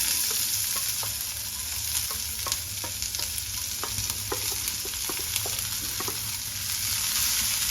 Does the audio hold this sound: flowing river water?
no